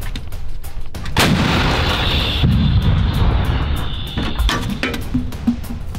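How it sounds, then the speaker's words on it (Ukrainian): An M101 105mm howitzer fires with a heavy deep boom, then a long rolling rumble and echo fading out over several seconds. "Зараз військові ведуть вогонь з гармати М101"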